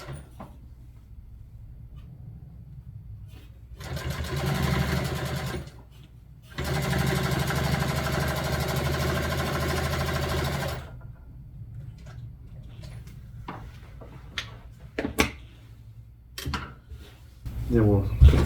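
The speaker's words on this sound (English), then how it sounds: "is we'll just sew the welt on first." A sewing machine stitches welt onto upholstery fabric in two sustained runs, a close steady whirring hum, with quiet handling noises and clunks of the material between runs.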